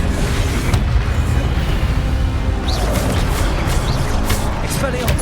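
Incendio fire spell cast in Hogwarts Legacy, a loud continuous whooshing roar of flame with dense low rumble, broken by a few brief higher swishes, with a voice speaking over it.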